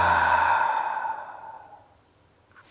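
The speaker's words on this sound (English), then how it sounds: "Take a nice big inhale through your nose and exhale out your mouth." A long, breathy exhale out through the mouth during a slow yoga practice, loud and close at the start and fading gradually over about two seconds to near silence.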